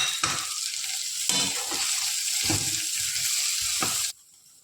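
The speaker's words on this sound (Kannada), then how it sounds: "ಸ್ಟವ್ ಆಫ್ ಮಾಡಿಬಿಟ್ಟು ತೆಂಗಿನಕಾಯಿ ಹಾಕ್ಕೊಂಡು ಇದರಲ್ಲೇ ಫ್ರೈ ಮಾಡಿಕೊಂಡ್ರೆ ಸಾಕು." Grated coconut fries in a hot pan with the stove switched off, giving a steady hiss broken by several scraping stirs of a spatula, close and clear, then cutting off abruptly near the end.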